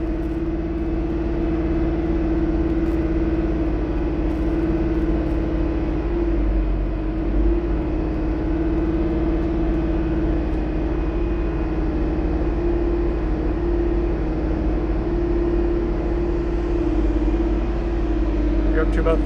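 An Aston Martin DB9 engine holds a steady fast idle near 2000 RPM during a power steering fluid change, a constant close drone with a strong even hum, as someone talks over it.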